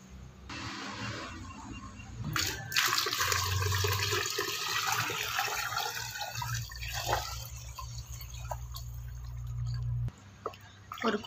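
About five litres of water poured into a liquid fertilizer mix for rose plants, a steady splashing gush lasting several seconds before stopping abruptly, close by and with no one talking.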